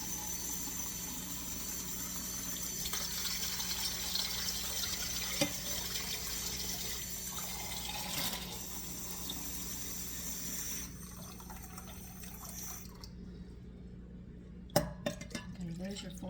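Tap water runs steadily into measuring cups, filling four cups for a wild rice and mushroom soup in a home kitchen. The even rush lasts about eleven seconds, then stops, followed by a few light clinks.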